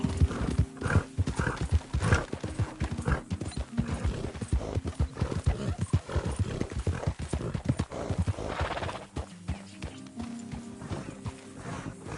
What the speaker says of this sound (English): That's a fine steed.